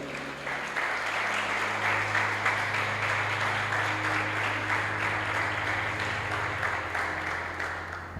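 A church congregation applauds together for about eight seconds, a steady, full wash of clapping with a low hum underneath.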